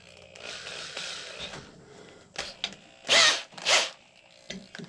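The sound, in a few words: drilling with a 3/16 drill bit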